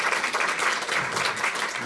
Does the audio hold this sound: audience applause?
yes